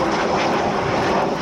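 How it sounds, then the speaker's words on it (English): Avro Vulcan B2 jet bomber flying overhead at the Royal International Air Tattoo 2013: a loud, steady, broadband engine roar that fills the whole stretch without letup, with no talking. "Aeroplane."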